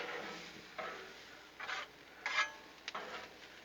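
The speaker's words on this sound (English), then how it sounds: "onions and peppers on the griddle" Onions and peppers cooking with bacon fat on a Blackstone griddle: soft, faint scraping and stirring strokes over a quiet background, arriving in a few short separate bursts.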